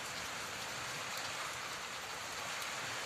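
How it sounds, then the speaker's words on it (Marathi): Steady rain falling outdoors in a dense, even hiss that stays constant from start to finish, with no voices. "पाऊस चालू आहे"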